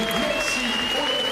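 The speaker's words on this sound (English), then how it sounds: "Getting a standing ovation there from the crowd." Crowd applause during a standing ovation at a Paris 2024 para-equestrian freestyle dressage event, a dense continuous clapping wash with a commentator's voice talking over it.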